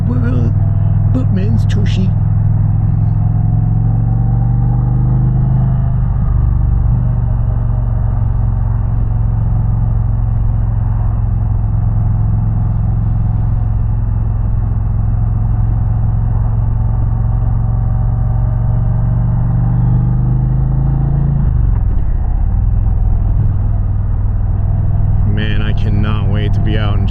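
Steady low engine rumble of an Indian Challenger motorcycle while riding on the road, continuous and loud with wind noise throughout, and a rider talking briefly at the start and end.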